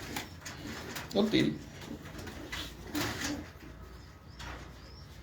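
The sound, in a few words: pigeons cooing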